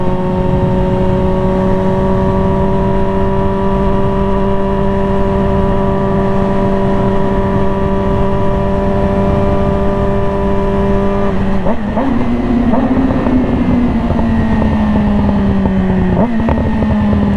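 A Yamaha R6 motorcycle accelerates hard from 0 to 60 mph, a loud, steady high-revving whine climbing through gears with brief shift breaks near the end, heard close and continuous.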